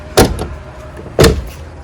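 A Toyota Corolla Twincam car door with a repaired latch shuts with a loud, solid slam, followed about a second later by a second equally heavy slam, close by and with no voices.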